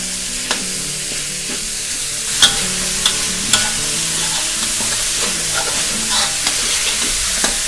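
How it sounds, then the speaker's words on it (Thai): About three hundred grams of minced pork stir-fried in a pan, a loud continuous sizzle broken by repeated sharp scrapes and taps of a spatula against the pan, with no talking. "พอผัดหมูจนสุกดีแล้วนะคะ"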